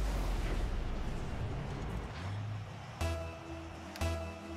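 A Rocket League goal explosion with a fireworks effect during a Cloud9 vs Gale Force match: a sustained roaring blast rumbles loudly, then two sharp popping bursts crack out a second apart.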